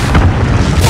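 Heavy artillery shell impacts from a fire mission in the Call of Duty: Modern Warfare campaign, a deep rumbling boom that swells and rolls continuously for the full second, loud and close.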